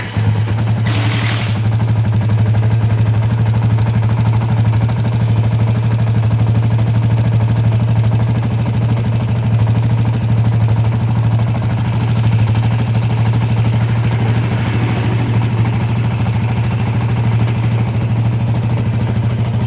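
A Yamaha MX King motorcycle engine idles with a rough, clattering note, giving a constant low drone with a faint mechanical rattle and one brief sharp noise early on.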